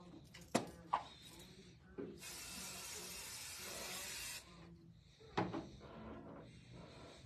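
505 basting spray hisses onto a quilt in one steady, close burst lasting a couple of seconds, framed by sharp clicks and fabric handling sounds.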